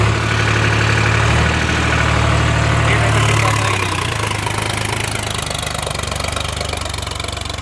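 Sonalika DI 35 RX tractor diesel engine working hard under heavy load, a loud, continuous low throb that drops in pitch partway through as it bogs down.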